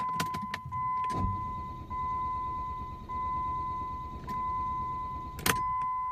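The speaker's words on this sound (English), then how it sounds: "you heard that at the start where the starter motor did not engage in the flywheel" A Jeep Grand Cherokee 3.0 CRD with a starter motor that fails to engage the flywheel and will not start. A few sharp mechanical clicks are followed by a steady electrical whine and hum, then another brief clack near the end.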